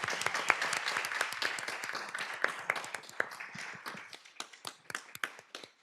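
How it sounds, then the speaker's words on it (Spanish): Audience applause at a book presentation in Guadalajara, a dense burst of close, crisp hand claps from a modest crowd that thins out toward the end. "Un aplauso, por favor, para él."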